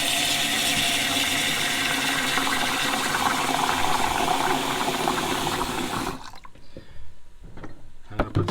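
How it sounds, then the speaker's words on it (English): Plain water is poured steadily into a container for washing the air filters of a 50cc motocross bike, a continuous close splashing rush for about six seconds that then stops, leaving a quiet room with small clunks. "You can see putting ordinary water in there."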